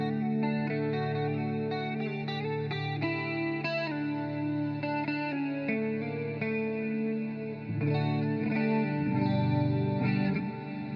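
Electric guitar played with a clean tone through an effects chain with chorus and light echo, ringing sustained notes and chords at moderate volume, alone without any talking.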